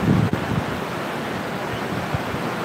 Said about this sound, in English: Let you hear the ocean.